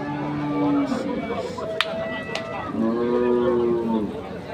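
A dairy cow at a rural cattle market lets out two long, loud, close moos, one brief and one drawn out, over the murmur of the market.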